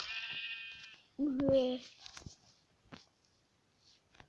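Sheep bleats in a blocky sandbox game: a high bleat at the start followed by a louder, lower bleat in the middle, separated by brief clicks and taps.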